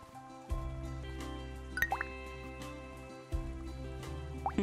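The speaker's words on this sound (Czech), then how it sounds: "Prší venku v té hře." Rain falling in the farming video game Big Farm Story, heard as soft dripping and liquid patter over a steady low game soundtrack, with a couple of brief louder splashy accents.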